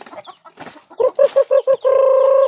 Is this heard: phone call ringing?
no